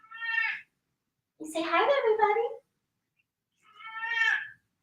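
A house cat meows two clear, close calls indoors, with a short bit of human speech between them.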